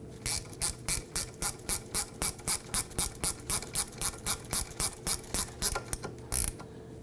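Rapid ratchet clicking as a wrench snugs down a brake caliper bolt on a 2008-2011 Ford Focus, a steady run of about twenty close, crisp strokes over several seconds.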